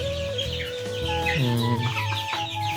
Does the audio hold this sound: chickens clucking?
yes